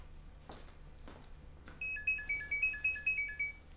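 A phone starts ringing partway through with a repeating melodic electronic ringtone in a quiet indoor room, preceded by a couple of faint soft thumps.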